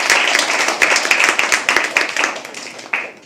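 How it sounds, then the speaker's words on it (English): Audience applause at a live poetry open mic, a dense patter of claps carrying steadily for a few seconds before thinning out near the end. "Can we please have another round of applause?"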